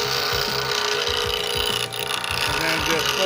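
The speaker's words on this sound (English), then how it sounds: "This is a slow speed grinder with an 80 grit ceramic wheel." A wood turning tool is ground against an 80 grit ceramic wheel on a slow speed grinder, giving a continuous close, rough scraping hum with a low motor drone underneath.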